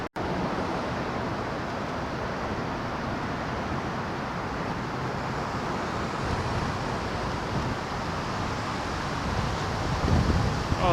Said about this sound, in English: there's that wind again